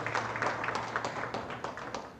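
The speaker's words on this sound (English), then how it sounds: "A round of applause" An audience at an economic policy dialogue gives a brief, faint round of applause, a soft patter of scattered claps heard from a distance.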